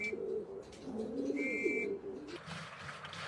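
Racing pigeons coo repeatedly at a loft, soft rhythmic calls layered with a couple of thin whistle-like tones, followed by a brief rustling wash of flutter and ambient noise.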